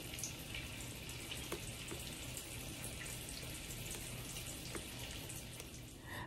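Running water splashing in a kitchen sink while a pan is washed, a quiet, steady hiss of flowing tap water with faint clinks, no speech.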